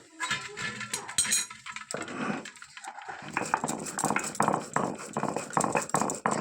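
Roasted fennel and spices tipped out of a hot wok, with metallic scraping and clinks of the pan and spatula, dry rattling grains and short knocks close by.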